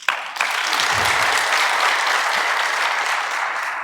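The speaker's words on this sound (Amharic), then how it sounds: "አረ ለእናቴ አጨብጭቡ።" Audience applause at an Ethiopian training seminar: a steady burst of clapping from a sizeable crowd that starts abruptly and holds at full strength for about four seconds, slightly fading at the end, with no talking.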